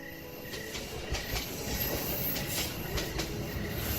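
A train idles with a steady mechanical rumble and hiss, faint clanks and squeaks of rail cars in the background, no voices.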